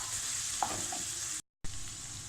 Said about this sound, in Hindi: लहसुन को मैं तब तक भूनूंगी जब तक कि इसकी अदरक लहसुन की स्मेल जो है वो ख़त्म नहीं हो जाती।